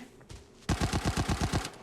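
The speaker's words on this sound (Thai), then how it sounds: "เสียงปืนสุดสาย" Automatic gunfire in the shooter game Arena Breakout, heard as a rapid burst of about eight evenly spaced shots after a short quiet stretch, loud and sharp with no talking.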